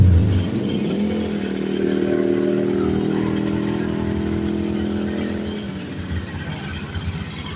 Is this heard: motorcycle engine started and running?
yes